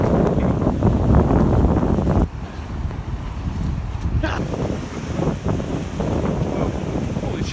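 Ocean waves wash and rumble against a nearby seawall with gusty wind buffeting the microphone, surging and easing over several seconds.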